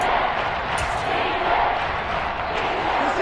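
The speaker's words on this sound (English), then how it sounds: "the crowd getting into it as we come up on a big third down" Stadium crowd roaring steadily in a Madden football video game, a dense, loud wash of cheering that swells slightly around a big third down, with no talking over it.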